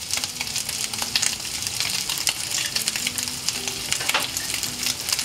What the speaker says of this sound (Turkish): Ondan sonra tekrar kavurmaya birazcık daha devam ediyorum.